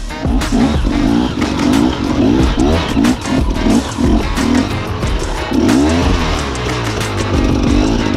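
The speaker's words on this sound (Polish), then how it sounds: "jeżdżenie na motorze po pustyni" A dirt motorcycle ridden in the Tunisian desert revs and drones steadily, pitch rising and falling as it accelerates and shifts, close and loud.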